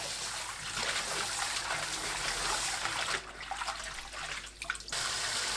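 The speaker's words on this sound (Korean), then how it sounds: "바로 찬물에 헹굽니다." Cold water runs steadily over freshly blanched seaweed (miyeok) as it is rinsed in a kitchen sink, a continuous splashing wash that briefly thins and sputters before flowing fully again.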